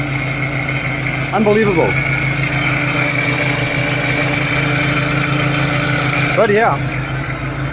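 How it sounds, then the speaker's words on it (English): A supercharged Daewoo Matiz idles with a loud, steady engine and exhaust drone throughout, while someone talks briefly over it twice. "Now, also guys, the exhaust does sound very good."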